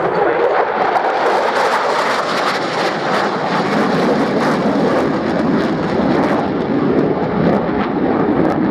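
Loud, steady broadband roar of an F-15E jet flying at an airshow, sustained throughout without breaks or talk, like a powerful jet pass close by.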